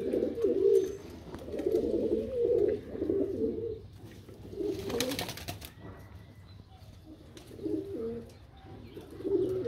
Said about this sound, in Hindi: सारा कबूतर है। ये देखें